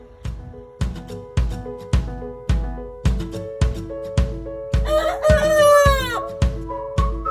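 A loud rooster crows once midway over a steady rhythmic thumping pattern that repeats throughout, with possible hen sounds close by.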